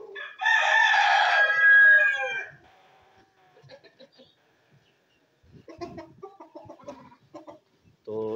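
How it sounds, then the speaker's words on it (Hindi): On a small farm with three hens and one rooster, a rooster lets out one loud, close crow, followed by softer scattered clucks and rustling from the birds. "तीन मुर्गियाँ एक मुर्गा"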